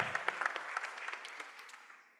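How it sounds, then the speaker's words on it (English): Brief, scattered hand claps from an audience at a youth lab kickoff ceremony in Addis Ababa, recognizing an organization's representative, fading out over a couple of seconds. "Yes, a hand clap."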